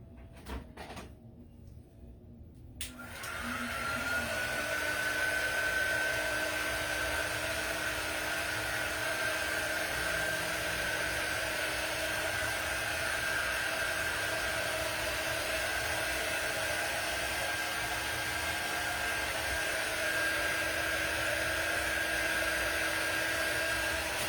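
A hair dryer starts up after a short quiet moment and runs steadily at close range, blowing on wet paint on a homemade snowman sign with an even, continuous whir.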